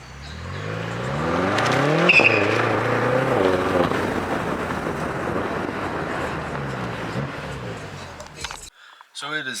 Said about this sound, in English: Try to record a downshift.